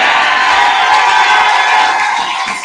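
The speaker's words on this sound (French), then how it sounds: "Applaudissements sur la parole." A church congregation applauds and cheers together, making a loud, dense wash of clapping and shouting that holds steady throughout and eases slightly at the end.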